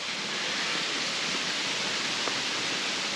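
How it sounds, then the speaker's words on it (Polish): Steady rushing water flows without a break, a dense even hiss of a stream pouring out of an abandoned building nearby. "Ten strumień wypływa z budynku."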